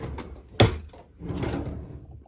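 A medicine drawer shuts with one sharp, close thud, followed by soft rustling and handling noises.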